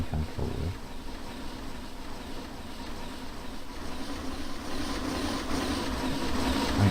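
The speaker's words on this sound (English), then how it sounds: "Let's just let the train come forward." A model Listowel & Ballybunion monorail train runs forward with a soft, continuous mechanical rumble and hum that builds slightly toward the end, quiet and steady, with no voices.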